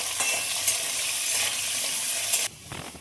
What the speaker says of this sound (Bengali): আলুগুলো ভাজার জন্য খুব ভালোভাবে নেড়ে দেবো।